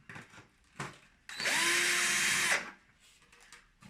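A powered heavy-duty screwdriver whirs steadily for over a second while unscrewing a 1:18 diecast Mercedes-Benz GLC Coupe model car, loud and close, with small handling clicks before and after.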